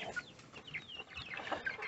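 Chickens clucking softly in a short burst of scattered, overlapping clucks and squawks, faint and somewhat distant.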